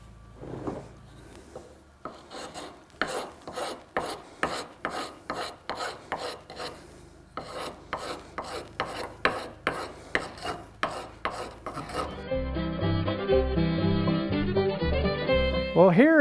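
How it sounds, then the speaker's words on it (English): Wood is rasped away from a tomahawk handle to fit the head. Regular back-and-forth filing strokes run close and clear for about twelve seconds, then give way to music. "remove this wood and do trial and error while I gently advance this head up as far as I can go"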